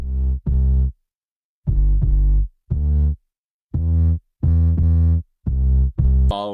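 Deep 808 bass from an EDM worship song hits in short, booming pulses, some doubled, spaced by silent gaps in a syncopated pattern, loud and isolated.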